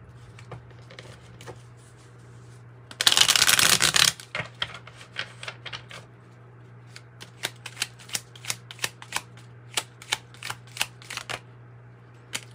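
Oracle cards for a tarot reading being shuffled close by: a loud dense riffle of about a second, then a run of sharp, spaced taps and flicks as cards are handled and laid down, with no talking.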